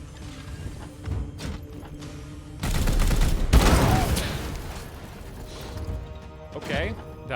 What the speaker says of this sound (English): Let's shoot the explosive crate.